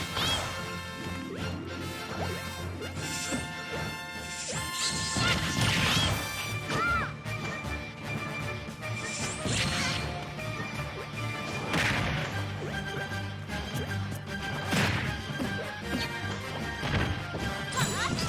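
Hits, whacks and smash attacks in Super Smash Bros. during an amiibo match: loud crashing impacts and swishing swipes arrive in irregular bursts over game music, with a few heavy smashes standing out.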